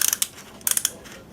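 Ratchet headgear on a Harbor Freight Vulcan welding helmet being adjusted, two quick bursts of crisp plastic clicks, four or five close sharp ticks each, with a short pause between them.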